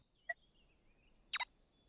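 Chickens from the video game dotAGE give two short, faint clucks in a quiet scene, one brief call followed a second later by a quick double cluck.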